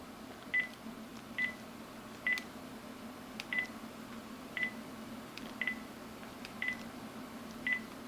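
A telephone keypad sends out a series of short dialing tones, eight even beeps spaced about a second apart over a faint steady hum, quiet and close, with no talking.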